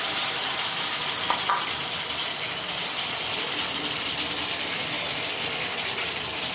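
Steady, close sizzling as finely chopped tomatoes hit hot oil with green chili in a pan for spicy bathua dal, a continuous frying hiss with a brief clink partway through.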